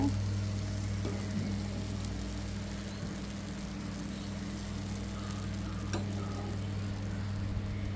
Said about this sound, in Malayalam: നമ്മൾ അപ്പം ഒഴിക്കുകയാണ്